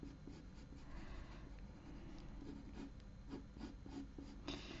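A Staedtler Mars pencil sketching rapidly on paper, soft scratchy strokes repeating in quick rhythmic bursts, faint and close against a low background hum.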